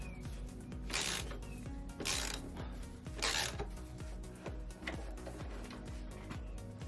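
A 19mm bolt comes off the rear link of a KTM 690 Enduro R during a Kouba link install, with faint mechanical ticking and ratcheting clicks in a steady rhythm and occasional louder metallic rasps.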